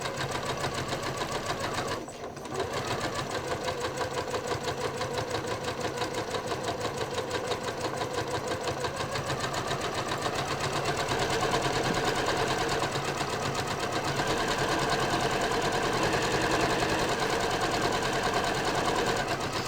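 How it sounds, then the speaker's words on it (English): A sewing machine stitches a second row of topstitching about 1/8 inch from the edge along a curve, running steadily and fairly fast with a continuous rapid needle rhythm and a brief pause early on. "Let's say we want to do a double row of top stitching."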